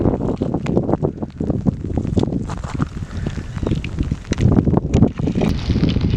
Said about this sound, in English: And the wind's starting to pick up